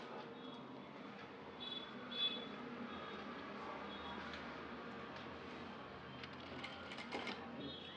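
A sewing machine stitches the front of a blouse, a faint steady mechanical whirr running continuously with a few small clicks, fairly quiet throughout.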